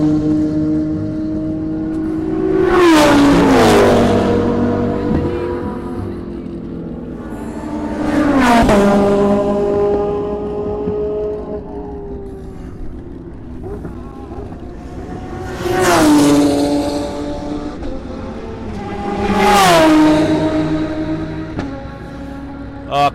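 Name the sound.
Porsche race car driving on track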